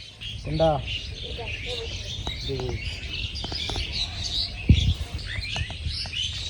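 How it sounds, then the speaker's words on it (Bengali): Small birds chirp in short scattered calls over a quiet rural field with rice paddies and kash flowers in a Bangladeshi village, fairly close, while a person talks softly in the background. "পাখিদের কিচির বিচির আওয়াজ কত সুন্দর"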